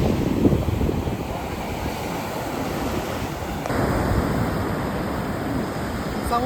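Heavy waves roll onto a beach in Kerala with a loud, continuous roar of surf mixed with wind buffeting the microphone. No one speaks.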